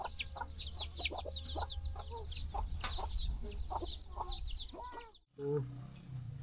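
Chickens clucking and chirping near a house. Busy, overlapping calls continue at a moderate distance, with a brief dropout near the end before the clucking picks up again.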